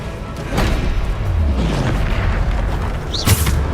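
A Bombarda blasting spell explodes in the video game Hogwarts Legacy: a deep booming blast with a rumbling tail, followed by a sharp bright crack near the end.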